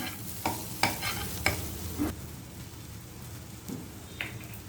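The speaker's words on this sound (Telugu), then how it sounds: "ఉల్లిపాయలు కొద్దిగా వేగిపోయాయి కదా, దీంట్లో అల్లం వెల్లిపాయ వేసేసుకున్నాం." Onions frying with ginger-garlic paste in a pan for dum aloo curry, a low steady sizzle broken by several sharp scraping stirs of a spoon at irregular intervals, close and fairly quiet, with no talking.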